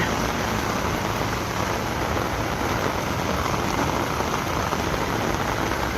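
Heavy rain pours down without a break, a dense, loud roar of water that fills the whole stretch with nothing else rising above it.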